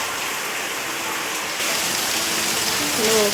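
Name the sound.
heavy rain outside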